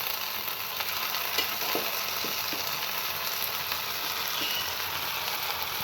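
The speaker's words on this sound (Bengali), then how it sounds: "আমি এখন ঢেঁড়সগুলো এখানে দিয়ে একটু ভেজে নেব।" Okra frying in a pan with onion for a mashed bhorta, giving an even, continuous sizzle close up with faint occasional clicks and no speech.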